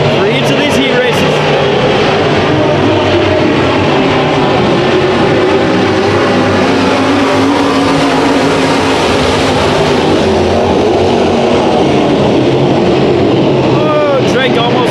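Race cars roar through a Sport Mod heat race at Bakersfield Speedway, a loud continuous wall of engine noise with rising and falling revs as the pack circles the track, heavy and sustained from start to finish, under a track announcer's commentary.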